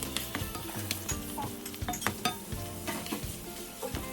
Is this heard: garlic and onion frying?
yes